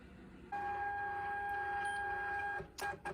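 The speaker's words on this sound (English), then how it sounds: "It's just randomly printing labels for zero reason" A label printer feeding out shipping labels with a sustained whirring motor tone for about two seconds, then stopping, followed by a few short mechanical clicks and rustles, close and alone.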